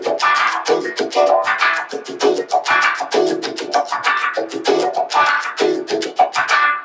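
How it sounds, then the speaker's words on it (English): Electric guitar strummed in a steady rhythmic pattern with a wah pedal swept on beats two and four, giving a regular vocal-like sweep to the chords, close and fairly loud with no talk. "So now if I did the wah on 2 and 4"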